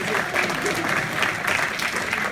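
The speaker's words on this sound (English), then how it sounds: "Give them a nice round of applause" An audience breaks into a round of applause for a correct answer at a mental arithmetic demonstration. The clapping is dense and steady, close and fairly loud, filling the whole stretch with no pauses.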